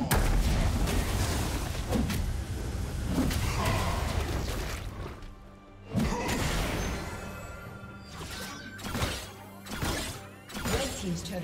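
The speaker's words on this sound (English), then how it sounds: "turret has been destroyed" Crashes and smashing impacts as a turret is destroyed in League of Legends, in a top-lane Nasus versus Gwen match. Repeated loud hits and debris bursts run throughout, mixed with dense game noise and a few sharper thumps.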